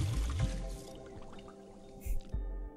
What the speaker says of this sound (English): Sounds like I'm flushing my poo poo in that